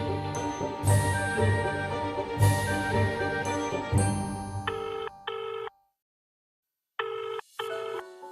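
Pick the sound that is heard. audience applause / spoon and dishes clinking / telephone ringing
telephone ringing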